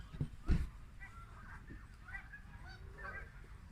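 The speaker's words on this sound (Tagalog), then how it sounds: "there are a bunch of birds, goose" Geese at a bird sanctuary honk in a short cluster of nasal calls, fairly distant and soft, after a couple of close thumps at the start.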